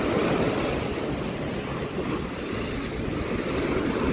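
Sea waves washing onto a private beach at a Goa resort, a steady broad roar of surf mixed with wind, loud and unbroken with no voices.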